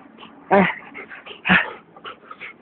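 A dog eating acerola cherries whimpers and yips, two louder whining cries among softer squeaky whines and snuffles, close by with no talk.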